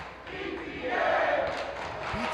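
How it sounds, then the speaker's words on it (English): A high school basketball crowd in a gym chants loudly in unison during a boys varsity game, a sustained roar of many voices with rising and falling swells. "PTA chants coming from the Wayland crowd"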